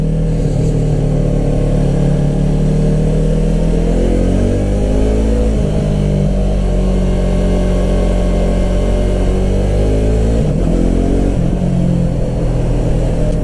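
A 2015 Yamaha R3 with an Akrapovic exhaust is ridden, its engine droning loud and close, with pitch rising through the revs and dropping sharply at gear changes around the middle and near the end.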